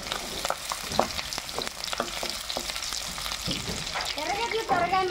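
Onions and a few curry leaves fry in hot oil in a pan, giving a loud, continuous sizzle broken by repeated scraping stirs and clinks from a spoon. The sound is close, and no one speaks over it.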